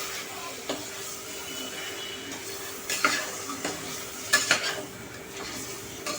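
Chicken liver frying with tomato and green chili paste in a pan, a soft continuous sizzle under intermittent spoon scrapes and clinks against the metal.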